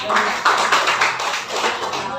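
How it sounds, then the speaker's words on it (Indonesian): Students in a classroom applaud a classmate named Julfan with a short burst of scattered hand claps at moderate loudness. "tepuk tangan untuk Julfan"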